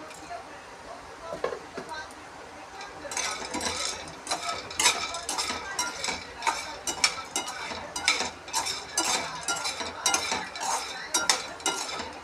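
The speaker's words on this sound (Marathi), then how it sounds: "चणे पण तुपातच बदामसोबत भाजून घ्यायचे" Chickpeas and almonds roasting in ghee while being stirred for homemade baby cereal, heard as a steady run of scraping, clinking stir strokes against the pan with faint sizzle, moderately close throughout.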